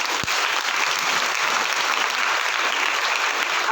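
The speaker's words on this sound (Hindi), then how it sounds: "अपने लिए ताली बजाएंगे" A roomful of participants at a Rajyoga spiritual camp in Panipat applaud themselves, a loud, dense, continuous wash of clapping that stays level from start to finish, with no talk over it.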